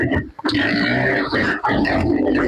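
A pig grunts repeatedly up close in a farm pen, loud and rough with brief pauses, mixed with people talking nearby.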